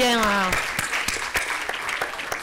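Applause at a business-day conference on the circular economy at a chamber of commerce, with a voice speaking over the opening half second before a steady clapping wash takes over.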